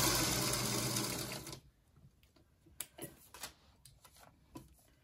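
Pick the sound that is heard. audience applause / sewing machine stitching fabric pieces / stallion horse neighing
sewing machine stitching fabric pieces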